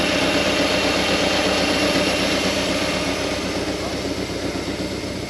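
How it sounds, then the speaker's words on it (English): A heavy equipment machine's engine idles steadily at close range while the machine is being loaded onto a trailer, with a low, continuous rumble that holds even throughout. "Corey will load the machine"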